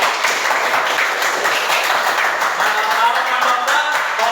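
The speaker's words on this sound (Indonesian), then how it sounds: "Tepuk tangan buat Lulu." An audience claps for a girl named Lulu, a young athlete, in a group setting. Steady, even clapping continues throughout at a fairly close distance.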